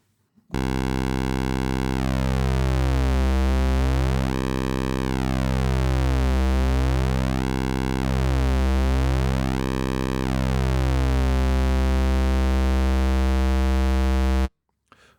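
A Tom Oberheim SEM Pro synthesizer plays a loud, steady pulse-wave tone for about fourteen seconds, its buzzy timbre repeatedly sweeping brighter and darker in slow waves, heard alone.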